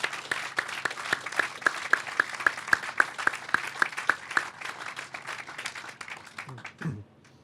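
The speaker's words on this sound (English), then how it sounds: "How about a round of applause for David and Rita?" Audience applause at an event announcing a $100 million gift, a steady patter of clapping with faint voices underneath, fading out near the end.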